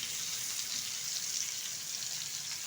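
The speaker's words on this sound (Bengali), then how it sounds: "চিংড়ি মাছটা হালকাভাবে ভাজবো" Shrimp fry lightly in a pan, giving a faint, even, continuous sizzling hiss with no talking.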